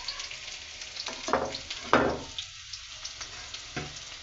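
Onion, crushed garlic and chopped chili sizzle in a pan as they are stirred, a steady frying hiss broken by a few louder scraping stirs, close and alone with no voices.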